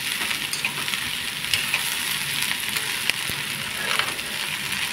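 Fiddlehead fern and potato stir-frying in a pan, a steady close hiss and crackle of oil with occasional scrapes and clicks of stirring throughout, no talk.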